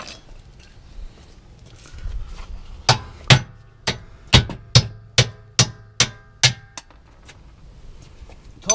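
Sharp, ringing metal strikes of a hammer on car parts under a Mazda RX8 being lowered, about ten hits in an uneven rhythm after a quiet start, close and loud.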